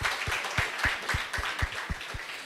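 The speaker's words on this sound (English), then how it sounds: "Please, shall we welcome her with a round of applause?" Conference audience at an emergency medicine society meeting in Ghana clapping steadily, a sparse, evenly paced round of applause with distinct individual claps, moderately close, no talking.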